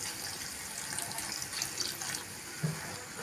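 Half a glass of water is poured into a pan of boiling potato gravy, a quiet splashing, soft continuous trickle lasting a few seconds with a small clink near the end.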